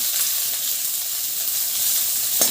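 Onion and bay leaf sizzle hard in hot oil in a pan seasoned with panch phoron, a dense, steady hiss with a short clatter just before it cuts off.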